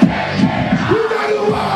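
A crowd at a rap battle shouts a chant in unison, loud and close, in rhythmic bursts of yelling voices that fill the space.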